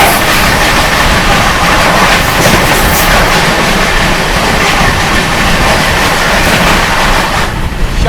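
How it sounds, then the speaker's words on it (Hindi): Sealdah Rajdhani Express, running from Sealdah toward New Delhi, rumbles past up close as a loud, steady roar of wheels on rails with rhythmic clickety-clack, fading slightly at the end. "सामने से आ रही है दोस्तों शालदा से चलकर नई दिल्ली की ओर जाने वाली शालदा राजधानी एक्सप्रेस।"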